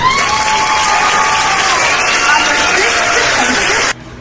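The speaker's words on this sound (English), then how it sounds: "A round of applause, please." A school theater-arts audience greets production staff walking a runway with loud, continuous applause mixed with cheering and shouts, cutting off abruptly near the end.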